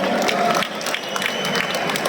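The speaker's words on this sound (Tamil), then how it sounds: "ஒரு பெண் சார்பாக ஒரு பெரிய கைத்தட்டல்களை கொடுத்துடலாம்" A college audience at an annual day event in Perundurai claps in a loud, continuous round of applause that fills the short stretch from start to finish.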